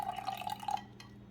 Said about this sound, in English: I'm going to pour in this